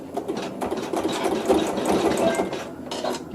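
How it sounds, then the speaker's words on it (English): A sewing machine runs steadily through final quilting stitches with accent thread in the needle and bobbin, its rapid mechanical chatter even and close before easing off briefly near the end. "and the machine will sew the final quilting"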